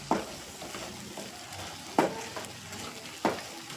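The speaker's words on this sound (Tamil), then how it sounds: "நல்லா கிண்டி விட்டு நல்லா அது வதங்கி வரட்டும்." Brain sautés in butter in a pan as it is stirred. Three distinct scraping strokes land at even intervals over a soft, continuous sizzle, close by, with no talking.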